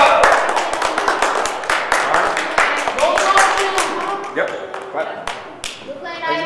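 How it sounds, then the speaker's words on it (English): Children in an after school program in Dolton clapping their hands, a quick ragged run of close, loud claps with voices talking over them, thinning out toward the end. "Can we get a clap?"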